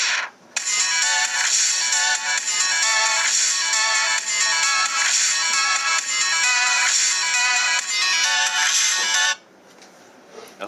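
A loud phone ringtone played for a volume comparison between a Polytron Prime 7s and a OnePlus One: a bright melodic chiming tune sounds continuously for about nine seconds, then cuts off into quiet.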